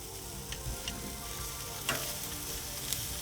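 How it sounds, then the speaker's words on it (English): Thin skirt steak sizzling in a hot pan, a soft steady crackle with a few sharp pops and ticks, no talking. "Get a nice sizzle going, and then we'll flip them."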